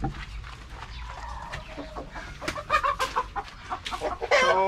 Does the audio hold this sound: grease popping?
no